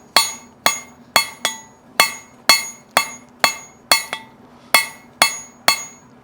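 A hammer strikes hot steel again and again while a square punch is drawn to a taper, about a dozen sharp ringing blows at a steady, slightly uneven pace, each one close and loud with a short metallic decay.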